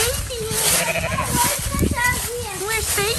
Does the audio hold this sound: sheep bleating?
yes